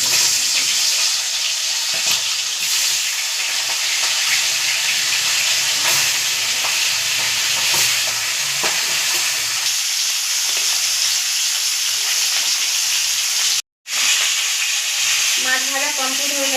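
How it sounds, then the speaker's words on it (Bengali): Fish heads coated in turmeric and salt fry in hot mustard oil, giving a loud, continuous close sizzle with spitting crackles that cuts out for an instant near the end and then resumes. "তেল গরম হয়ে গেছে, এবার মাছগুলোকে ছেড়ে দেবো।"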